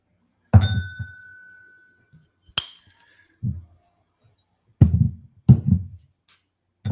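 Whiskey glasses of Old Forester bourbon clink and knock on a table as they are shuffled around, giving a few sharp isolated chinks followed by bursts of duller rattling knocks with quiet gaps between.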